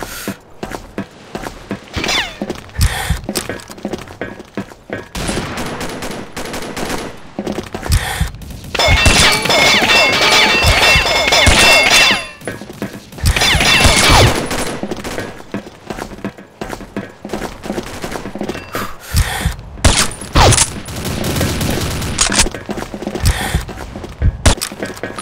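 Gunfire and impacts in the online shooter Combat Arms, a dense run of sharp cracks and bangs in bursts with loud sustained stretches and brief pauses, close and alone.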